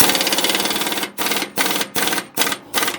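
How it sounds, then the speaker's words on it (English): An air impact gun removes drive shaft bolts on a tow truck. One loud, rattling hammering run is followed by several short bursts with brief gaps between them. "Take these other bolts off with the air gun."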